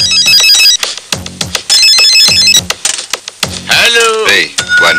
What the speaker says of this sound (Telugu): మీకు ఫోన్ వచ్చింది తెలుసు.